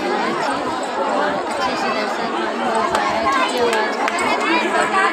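Dense crowd chatter packs the Maa Sharda temple grounds, many overlapping voices at once forming a loud continuous murmur with occasional sharper calls, steady throughout with no single speaker standing out.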